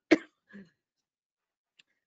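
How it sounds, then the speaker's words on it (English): A single sharp cough from a panelist, followed by a softer second cough and a faint click, close and dry against silence. "start coughing."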